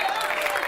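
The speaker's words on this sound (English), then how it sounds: "Let's give them a hand clap." Applause from a live audience at a grape blessing show, a steady, dense wash of hand claps filling the whole short moment, fairly loud and even with no pauses.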